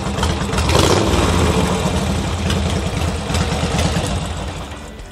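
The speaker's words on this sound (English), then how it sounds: "So got the idle all sorted out." A rebuilt Harley Davidson chopper motorcycle engine running loud and close, a throaty pulsing idle that swells as it is revved, then settles back to a steady rumble, with no voices.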